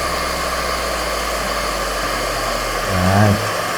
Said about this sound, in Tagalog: Sobrang lakas ng blower, mga kaputol.